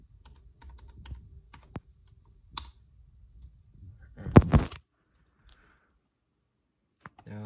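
Fingers typing a password on an iMac keyboard, sparse close clicks and taps scattered with pauses, including a brief flurry of rapid keystrokes near the middle.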